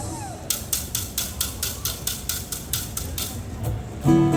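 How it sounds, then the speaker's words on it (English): Pu'ili, split bamboo hula implements, clatter in a steady rhythm of about a dozen crisp, dry rattling strikes. A voice begins speaking at the very end. "Our second hula implement is made of split bamboo called the pu ili, and it sounds like this."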